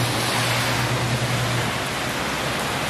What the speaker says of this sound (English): It's just been super pouring rain here.